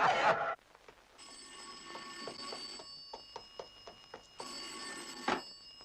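A telephone rings with a bright electronic bell in two bursts separated by a pause, close and fairly loud, with a brief voice at the start.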